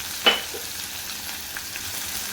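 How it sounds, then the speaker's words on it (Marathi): Finely chopped onion fries in oil in a pan, a soft steady sizzle after one short sharp clatter near the start, close by and without speech. "कांदा छान आपल्याला याच्यात परतून घ्यायचा आहे, हलका गुलाबी रंग येईपर्यंत"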